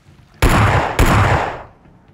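Two loud, close Vector gunshots in the PUBG Mobile video game, each a sharp broadband blast about half a second apart, the second one trailing off into a fading echo.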